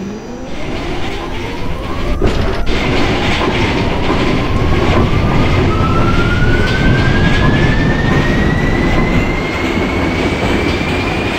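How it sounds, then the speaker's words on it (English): An R46 New York subway train on the A express in the OpenBVE train simulator, accelerating with a loud, steady rumble and a rising electric motor whine that climbs in pitch throughout. Nobody speaks. "This is a Brooklyn-bound A express."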